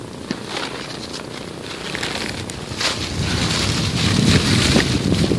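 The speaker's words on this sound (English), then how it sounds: "The wind's blowing this way." Outdoor wind blows steadily at a campsite where a fire is being prepared, buffeting the microphone in a broad rushing roar that grows stronger and louder toward the end, with no talking.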